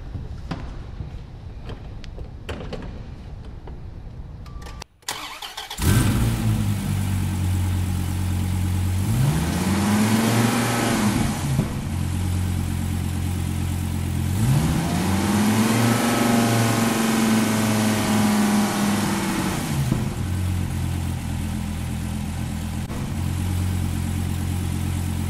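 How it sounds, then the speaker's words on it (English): Dodge Viper V10 engine cranks and catches at about five seconds, then settles into a loud, rumbling idle broken by two rising-and-falling revs, close up with no talking. "So let me fire it up for you guys."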